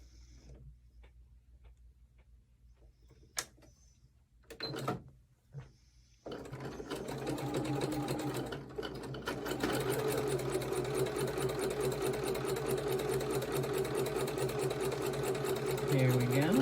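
A sewing machine stitches a Snail Trail sampler quilt block, starting after a few quiet clicks and handling noises, then running steadily with a fast, even mechanical whir until the end; a voice speaks briefly early on.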